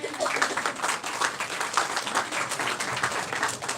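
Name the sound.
audience applause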